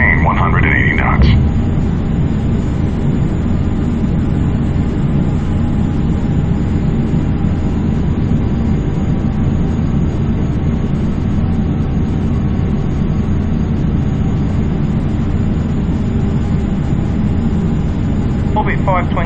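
Simulated jet engine thrust in Microsoft Flight Simulator X, a continuous loud low roar and rumble with a steady high whine, constant throughout.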